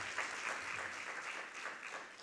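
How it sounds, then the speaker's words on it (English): Audience at a research conference on health and childhood in displacement settings applauds the presenters, a steady even round of clapping at moderate distance. "One big round of applause for all presenters"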